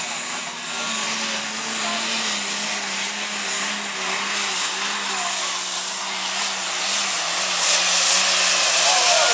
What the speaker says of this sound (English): Got to kind of ease into the throttle, get all those turbos working together.